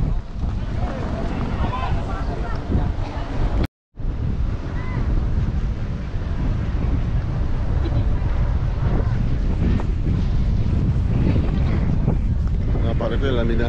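Cool wind blows hard and steadily during a long motorcycle ride by the sea, a loud rumbling buffeting across the microphone that stops for a split second before returning just as strongly.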